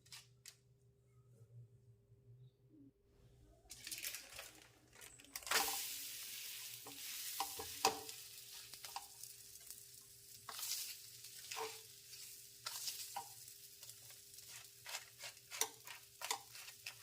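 Rice flour roti mixture hits a hot tawa and begins to sizzle after a quiet start, a soft crackling hiss with scattered ticks and scrapes, fairly faint and close.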